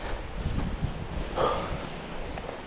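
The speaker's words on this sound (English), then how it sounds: "Just super windy" Gusty wind on a mountain climb buffets the microphone, a rumbling rush with a stronger blast in the middle, and no voices.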